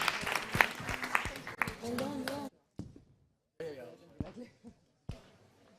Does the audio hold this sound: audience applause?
yes